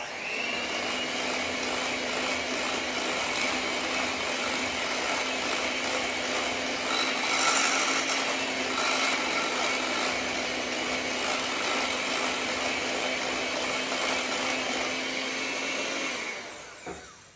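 Electric mixer running steadily while blending sour cream into New York style cheesecake batter, a continuous loud whirring motor hum that holds even for about sixteen seconds before stopping.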